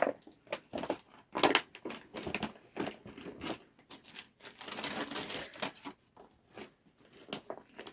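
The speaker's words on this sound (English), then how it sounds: "I ended up using a plastic bag from a baby blanket." A plastic bag from a baby blanket, used to hold a cross-stitch project, crinkles and rustles in irregular bursts of handling, close and fairly quiet, with no talking.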